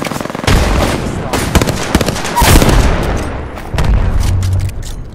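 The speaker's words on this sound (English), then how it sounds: "Frag grenade sent." A frag grenade blast and bursts of gunfire in the Apex Legends video game ring out loud and close, sharp shots scattered across the few seconds with a heavier boom near the middle.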